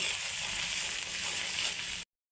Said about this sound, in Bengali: লবণ, জিরের গুঁড়ো, ভালো করে মশলাগুলো একটু নেড়ে নেব